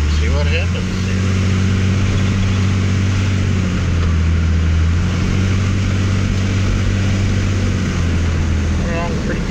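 Diesel engine with a VP44 injection pump repaired using a microcontroller, running loud and close at a steady low drone throughout, with faint wind noise and brief bits of background sound at the start and end.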